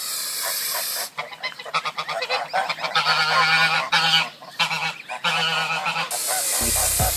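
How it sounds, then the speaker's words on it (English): Geese honking loudly and close, a series of harsh, nasal calls in uneven bursts with short gaps, some honks overlapping, ending in a long sustained blare. "don't forget that we're talking about literal geese here"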